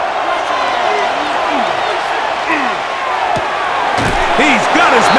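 Stadium crowd roaring steadily throughout a Madden NFL 26 PS5 simulation of the Atlanta Falcons against the Minnesota Vikings, loud and continuous, swelling near the end with scattered thuds on top.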